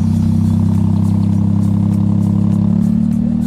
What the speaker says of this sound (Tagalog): Ganda ng tunog ng makina natin